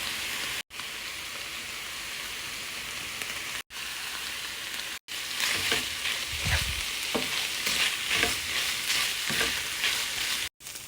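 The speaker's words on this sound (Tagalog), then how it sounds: "Pagka nagluluto ako nito guys, sinasangkot ko maigi ang ground pork." Ground pork sautéing in a pan as it is stirred: a steady, close sizzle with scraping and clatter from the spoon, broken by several brief silences and growing busier partway through, with no talking.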